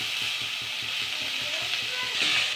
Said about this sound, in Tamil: வெங்காயம் எல்லாம் போட்டு நல்லா வறுத்தெடுத்துக்குவேன்